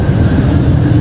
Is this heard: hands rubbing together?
no